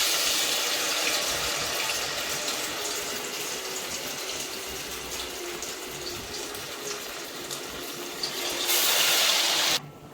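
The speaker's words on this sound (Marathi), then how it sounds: "हे बघा असं मध्यम गॅसवर असं तळून घ्यायचं." Batter-dipped tomato, potato and poha cutlets fry in hot oil over medium heat, giving a steady, close hiss and sizzle that swells louder near the end.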